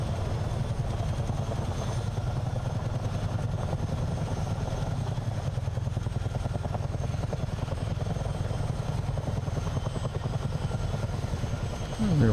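A CH-47 helicopter in Microsoft Flight Simulator flies up the Potomac River, its deep rotor drone and turbine roar filling the clip steadily and loudly throughout.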